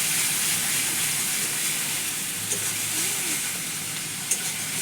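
Egg curry masala sautéing in a pan, a steady close sizzle and hiss of frying spices with occasional soft stirring scrapes and a faint clink near the end.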